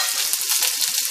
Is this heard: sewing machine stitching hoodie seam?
no